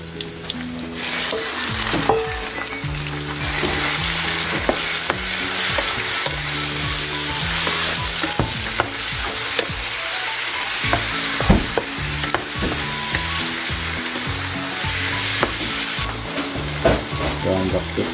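Green chili, garlic and cardamom seeds sizzle loudly and steadily in a hot pan for curry, with occasional stirring scrapes and clatters throughout.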